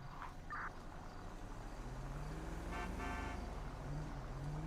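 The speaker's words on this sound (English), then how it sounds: "Honk honk." A car horn honks in a San Andreas roleplay video game, two short toots followed by a longer blaring honk over steady traffic and engine noise.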